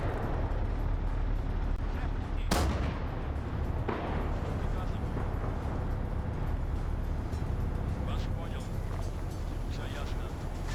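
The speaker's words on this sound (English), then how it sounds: "The most powerful 37mm cannon in the world." A 37mm cannon in a military video game fires with a sharp loud blast, then another softer report later, over a continuous rumbling battle ambience.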